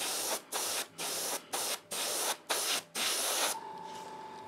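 Aerosol spray paint hisses out in thin coats over a Hornby model railway scenic build: six or seven steady bursts of roughly half a second each, broken by short pauses, then a quieter tail as the spraying stops.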